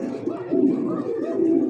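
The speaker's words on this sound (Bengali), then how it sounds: "খাঁচার মধ্যে খুব সুন্দর একটা জোড়া দেখার মতো, হ্যানা পড়ার একটা কবুতর যে ডাকাডাকি করতেছে" A pigeon kept in a cage at a pigeon sale gives a short, low, throaty coo close by, rising and falling over about two seconds.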